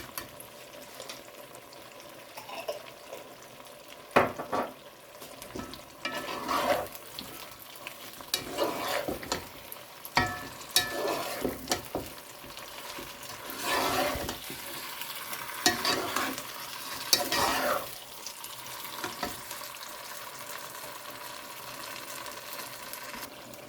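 Chicken manchurian being stir-fried in a pan with schezwan chutney, with a soft steady sizzle broken by repeated scraping and stirring strokes, close and moderately quiet.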